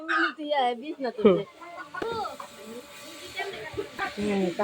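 A chicken gives a few agitated squawks and clucks at close range while a person shouts to shoo it away, and talking continues over the brief bird calls.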